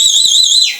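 A single long, shrill whistle from the audience at a Tamil village stage drama performance of Valli Thirumanam, held steady and then sliding downward as it fades, loud and close, with no talking.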